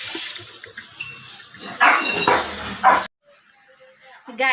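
Water runs from an unusually designed faucet for hand washing, splashing in uneven bursts with people talking over it, then briefly cutting off before resuming.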